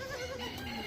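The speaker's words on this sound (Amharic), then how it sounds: "እቺ የኢትዮጵያ ፍየል ናት እርግጠኛ ነኝ።" An Ethiopian goat bleats in one short, steady, nasal cry that fills the whole moment, close by, with a faint hum of background noise.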